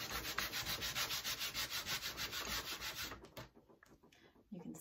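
Scraping sticky residue off an old, dirty Cricut cutting mat, a steady rhythmic rasping of repeated strokes, close and fairly loud, that stops abruptly partway through.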